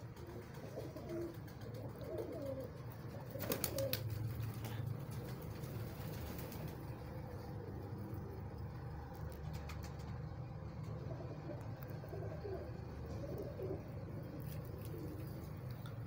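Pigeons kept by a fancier coo repeatedly in soft, low, throaty bursts over a steady hum of distant traffic, with a few faint rustles and clicks nearby and no talking.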